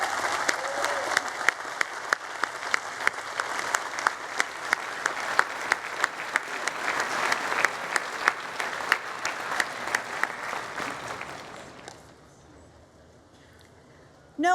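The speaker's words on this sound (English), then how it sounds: "Please join me in giving Duvall Patrick another round of applause." A large outdoor crowd at a Harvard University commencement applauds, a wide, continuous roar of clapping with sharp claps scattered through it, then fading to near quiet before a sudden sound at the very end.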